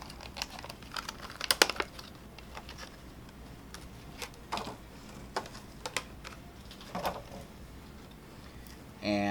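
Knife roughly chopping garlic on a cutting board for a keto zucchini pasta dish, a run of sharp, irregular taps and crisp cutting strikes, close and fairly quiet, with a louder clatter right at the end.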